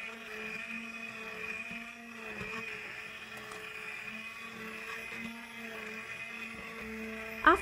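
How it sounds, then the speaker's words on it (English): A steady, low motorized whir of a hand blender blending spinach soup runs continuously at moderate volume, with no talking. "Blend it until the soup is a smooth liquid with a hand blender."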